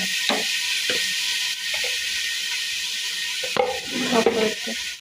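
Onions and spices sizzle steadily in a frying pan, with a few sharper scraping stirs breaking through the continuous hiss, loudest near the end.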